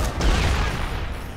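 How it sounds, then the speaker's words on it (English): A grenade explosion in the video game Dead Rising 3: a single loud, booming blast at the start that rumbles and crackles, then decays into a sustained roar of debris and noise. "Did he just throw a nade at me? He did."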